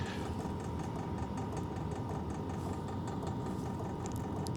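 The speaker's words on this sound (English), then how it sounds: "I hear a clanging because my exhaust is a little loose." A Sunster TB10 diesel heater runs with a steady mechanical hum and rattle, and its loose exhaust gives off faint metallic clanging ticks at the end.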